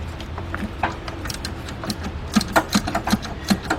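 A hand ratchet works a 15 mm bolt on a 2005 Cadillac CTS 3.6 engine with a knocking fault, giving a run of close, sharp clicks that grow into louder, spaced pulls near the end.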